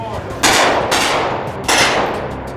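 Gunfire from guns on a TV stunt set for a police action scene, heard as a few loud, sharp blasts with ringing decay, spaced irregularly across the short span.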